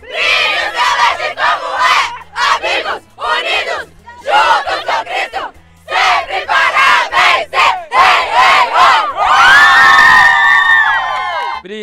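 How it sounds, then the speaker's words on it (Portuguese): A youth club group at a camporee in Espírito Santo, Brazil, yells its battle cry in loud unison, bursts of chanted shouting ending in a sustained cheering whoop, close and energetic. "E o grito de guerra..."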